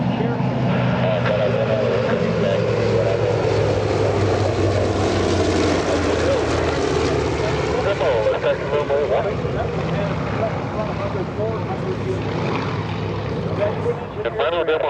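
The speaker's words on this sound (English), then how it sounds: "Big F8F Bearcat." Grumman F8F Bearcat propeller fighter flying at an airshow, a steady loud droning roar throughout with a slowly shifting pitch, an announcer talking over it.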